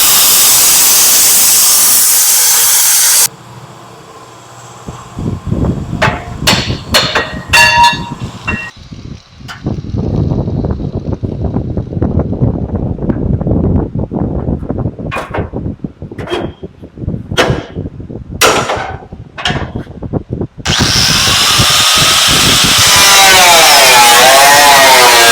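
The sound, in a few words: power tool cutting off truck front mounts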